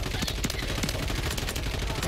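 Rapid gunfire from Call of Duty MW3 crackles in dense, continuous bursts through the whole stretch, loud and busy with a steady low rumble beneath.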